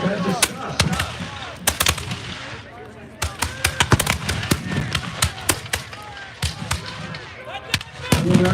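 Musket volleys crack out repeatedly at a Bunker Hill battle reenactment, sharp irregular shots near and far over crowd murmur and a narrator talking throughout.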